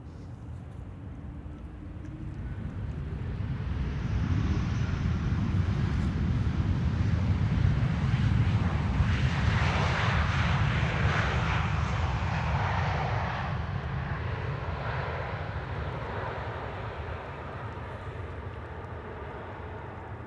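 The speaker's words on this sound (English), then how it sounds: "Next up, KLM flight 1752, arriving from Hamburg." A KLM airliner on flight 1752 from Hamburg arrives at Amsterdam Schiphol Airport. A broad jet roar swells over several seconds, peaks and then slowly fades, heard from a distance with no talking.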